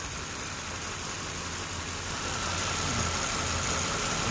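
A Daewoo Magnus 2.5-litre inline-six engine idles steadily after assembly, a close, even mechanical hum with no voices.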